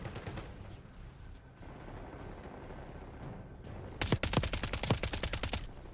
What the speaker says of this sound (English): Yeah, I can hear him sniping.